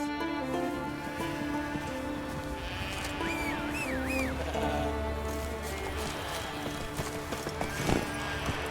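Horse hooves clip-clop at a steady walking pace in The Witcher 3, set amid the game's dense ambient score and environmental sound, with a brief whinny-like accent and a louder thump near the end.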